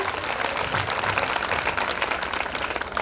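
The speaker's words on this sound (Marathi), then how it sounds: "एकदा जोरात टाळ्या वाजवा" A large audience at a women's awareness gathering applauds loudly and continuously, a dense wash of clapping that holds steady throughout.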